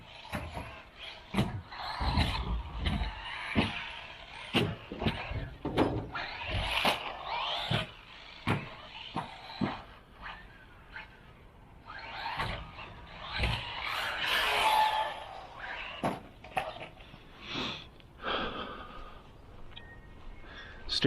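A small Eachine EC30B RC car on a track, quiet and running a servo for steering, giving a scattered series of light mechanical clicks, whirs and scrapes with fluctuating bursts of motor noise.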